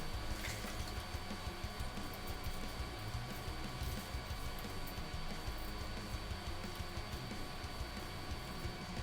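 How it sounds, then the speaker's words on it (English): A 3D printer runs in a room, giving off a steady fan-like whir with faint mechanical ticking. It is continuous and moderately loud, with no talking. "if you can hear a fan, it's my 3D printer"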